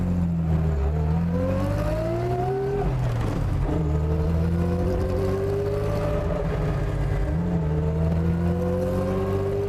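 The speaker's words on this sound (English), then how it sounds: "I love the gear whine." Gear whine from a Mercedes-Benz 300 SL Gullwing on the move, a steady rising and falling mechanical whine over the engine's continuous drone, shifting pitch as the car changes speed, loud and close with no talk.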